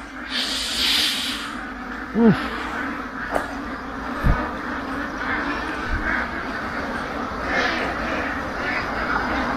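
Ducks at a duck farm give a few scattered quacks over a steady hissing outdoor background, faint to moderate and spaced irregularly across the scene.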